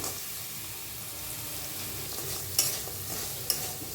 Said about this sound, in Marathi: गुळाला पूर्ण विरगळून घेऊया